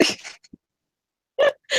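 A single sharp sneeze bursts out at the start, followed by a brief silence before someone starts talking.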